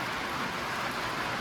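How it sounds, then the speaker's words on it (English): Rain falls outdoors on an autumn farm in Ohio, a dense, even hiss of drops spread wide and steady with no distinct individual hits and no voices. "I think it's starting to rain."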